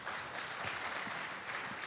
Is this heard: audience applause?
yes